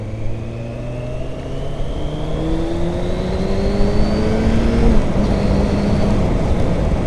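A Suzuki Bandit motorcycle engine revs up steadily, pitch climbing over several seconds, then drops briefly and climbs again, loud and close with a raspy exhaust note and no talking.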